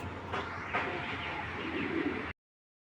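Soft, continuous cooing of racing pigeons close by, a low murmuring drone with a few brief louder accents, then it cuts off abruptly.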